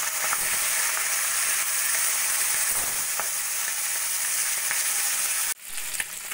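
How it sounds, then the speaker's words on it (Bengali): Katla fish head and tail frying in hot oil, a loud, steady, dense sizzle that fills the clip alone before cutting out briefly near the end and resuming. "একইভাবে আমি মাছের মাথা ও লেজাটাও ভেজে নেব।"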